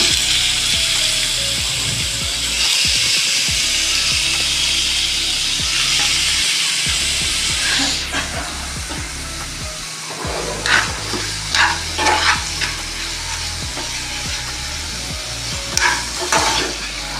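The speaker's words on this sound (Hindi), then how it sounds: "इसको इतना फ्राई करेंगे कि इसका कलर चेंज हो जाए।" Boneless chicken pieces sizzle loudly in a pan with ginger, a steady close frying hiss that later breaks into irregular stirring scrapes and spatters.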